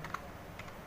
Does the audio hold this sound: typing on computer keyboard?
yes